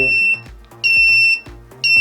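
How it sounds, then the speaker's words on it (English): An Arduino vehicle accident alert buzzer beeps in a steady repeating pattern, three loud shrill pulses separated by short gaps, close and alone. "the buzzer is beeping."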